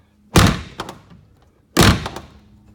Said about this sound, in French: cette porte ne veut pas bien se fermer